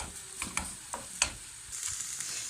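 Chicken pieces sizzle softly in a pan while being stirred, with a few sharp scraping clicks of the utensil against the pan over a low, steady frying hiss.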